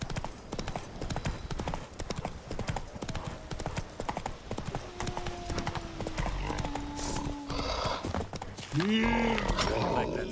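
Hooves of Roach, Geralt's horse in The Witcher 3, clip-clopping in a brisk, steady gallop rhythm up close, with a brief whinny near the end and speech over parts of it.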